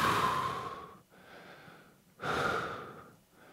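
Heavy breathing during a high intensity full-body interval workout: a loud exhale, a softer breath, then another strong exhale, close to the mic with no talking.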